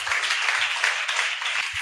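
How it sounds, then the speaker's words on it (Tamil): Church congregation clapping together in a steady, fairly loud wash of applause with occasional low thumps, no speech over it. "கைத்தட்டி ஒரு அலையில சொல்லுங்க பார்க்கலாம்"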